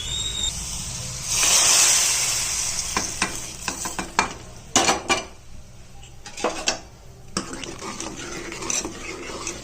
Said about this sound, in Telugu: ఈ తాలింపును అందులో వేసేస్తున్నాం.